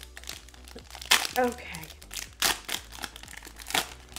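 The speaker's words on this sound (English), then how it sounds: "I'm also just like ripping at the worst parts of this pack." Crinkling and ripping of a foil Pokemon booster pack torn open by hand, in several sharp bursts of crackle with brief talk in between.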